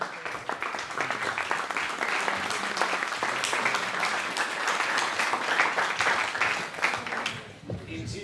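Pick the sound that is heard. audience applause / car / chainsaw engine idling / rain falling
audience applause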